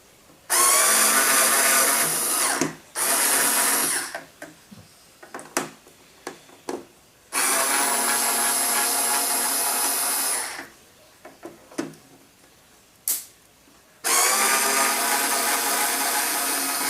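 A power drill backs screws out of the bottom of an NES case being fitted with an HTPC: three long, loud whirring bursts with short gaps, broken by a few brief clicks and handling knocks between runs.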